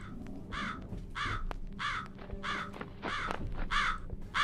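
Crow cawing in the horror video game Chilla's Art Jisatsu: about seven harsh, evenly spaced caws in steady rhythm over a low background rumble, fairly close and moderately loud, with no talk.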